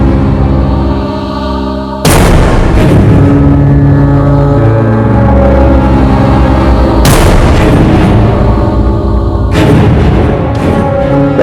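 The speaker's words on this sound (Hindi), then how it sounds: "आसपास गोली चली है, आवाज लगता है उद्देश्य से आई है।" Three sharp, loud gunshots fired close by, each a sudden crack with a long booming decay, spaced several seconds apart over a low rumbling background, with no talk.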